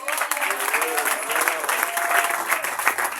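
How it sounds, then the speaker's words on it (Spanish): Church congregation at an anniversary service in Ecuador applauds, a continuous, fairly loud burst of clapping with some voices mixed in throughout. "Denle un aplauso a Cristo."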